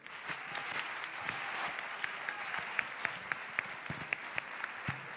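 Warm, sustained applause from an indoor audience at a sports awards gala, dense clapping filling the room at moderate distance with a few louder claps standing out.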